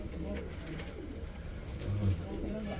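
Pigeons coo in a low, soft murmur with one brief louder coo near the end, under steady background noise.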